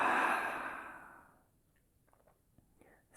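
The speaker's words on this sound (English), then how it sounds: "Open mouth, exhale." A long, breathy open-mouth exhale during yoga Ujjayi breathing, loud and close at first and fading out over about a second and a half, followed by quiet room tone with faint small sounds.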